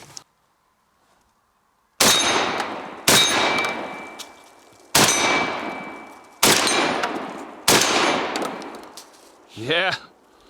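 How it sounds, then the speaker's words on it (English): A Fed Arm FX3 semi-automatic 12 gauge shotgun firing Fiocchi buckshot outdoors: five sharp, loud blasts spaced a second or two apart, each with a ringing tail that fades away, followed by a brief faint sound near the end. "Yeah, these Fiocchis shoot no problem."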